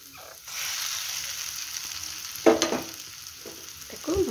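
A tomato and potato mixture frying in a pan with a sustained sizzle, stirred with a few close scrapes and clinks, mostly alone with no talk.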